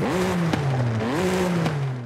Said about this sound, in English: And now with the upgraded exhaust.